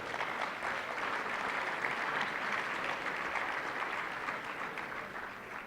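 A room full of people applauds swimming honorees at an awards ceremony, steady and sustained clapping that holds at an even level for the whole stretch, with no voices standing out.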